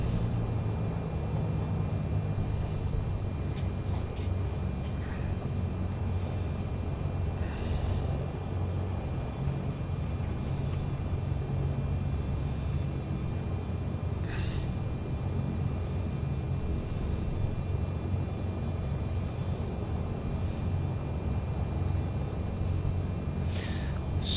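A Beechcraft light aircraft in a flight simulator rolls down the runway for takeoff, giving a steady, continuous engine drone and rumble that holds at moderate loudness throughout, with faint higher tones now and then.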